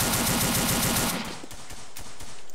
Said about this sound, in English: Holy shit, what is that? The STG-44?